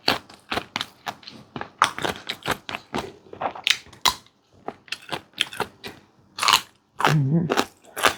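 Close crunchy bites and chewing of grilled chicken eaten with chili dip, a string of sharp crisp crunches in an uneven rhythm, loud and near with short pauses.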